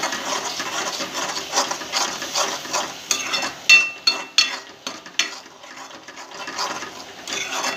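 Homemade black masala, red chili powder, turmeric and salt fry in oil for a drumstick and potato curry, with steady rhythmic stirring scrapes and a close, busy sizzle and no one talking.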